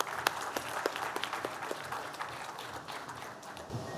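An audience at a business conference session gives a round of applause for an honored guest, steady moderate clapping from a seated crowd with a few sharp individual claps standing out.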